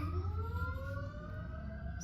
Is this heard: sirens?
yes